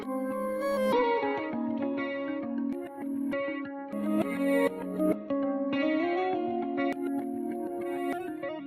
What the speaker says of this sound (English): we want to automate our bit crushing to turn on and off